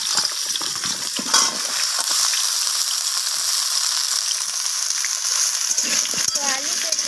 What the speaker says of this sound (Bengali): তো আলু পেঁপে দুটোকেই আমি ভালো করে একটু ভাজা ভাজা করে নিচ্ছি।